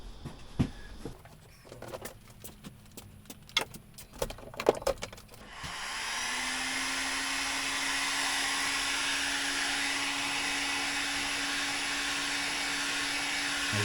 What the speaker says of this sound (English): the easiest way to do it is with a heat gun